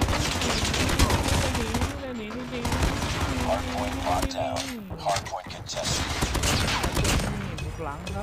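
Near-constant automatic gunfire in Call of Duty, loud and close, with a voice talking over the shooting throughout.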